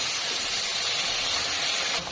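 Cumin seeds sizzling in hot oil in a village kitchen, a broad steady hiss filling the whole stretch, close and even, fading slightly at the very end with no voices.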